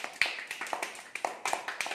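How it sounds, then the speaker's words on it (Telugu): Children clapping together in a primary school classroom, a quick ragged burst of many hand claps, close and fairly loud, with no talking. "క్లాప్స్ కొట్టండి చెరికి."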